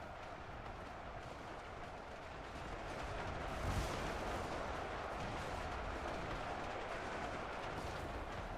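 Musket volleys in the battle game Ultimate Epic Battle Simulator 2, a faint, dense rumble of distant massed gunfire that swells slightly partway through and keeps going without pause.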